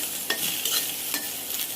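An egg frying in a pan for a home-cooked Bengali meal gives a steady sizzling hiss, broken by a few soft stirring scrapes spaced through the short stretch, close and with no voices.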